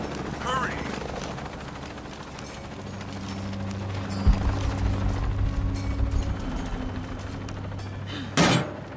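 Helicopter in Shadow of the Tomb Raider, a steady low rotor drone building through the scene amid mechanical game effects and a sharp burst near the end.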